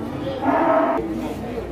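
A single drawn-out cow moo rises briefly over a busy, murmuring background of voices and open-air noise at a cattle market selling Singosari heifers and breeding cows.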